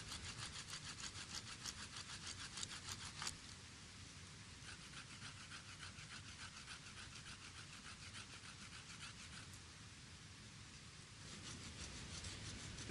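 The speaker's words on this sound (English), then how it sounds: "The edge of this granite block serves as a crude but effective tool to cut the notch." A granite block edge scraped back and forth across a mullein drill stalk to cut a notch, giving rough rhythmic rasping strokes, close and fairly quiet, with a short pause midway before the sawing resumes.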